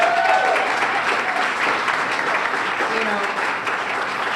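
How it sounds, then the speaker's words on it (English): A crowd applauds Nia Grace at a café grand opening in Roxbury, steady clapping that fills the moment while a voice starts talking over it. "Can you guys give her another round of applause?"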